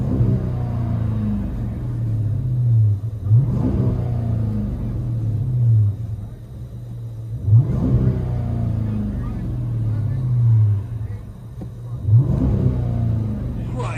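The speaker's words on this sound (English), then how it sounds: "Chrysler 300S 2013 rear muffler delete" A 2013 Chrysler 300S with a 5.7L HEMI and the rear muffler deleted rumbles from inside the cabin, a deep steady drone swelling in three rev surges with a faint voice underneath.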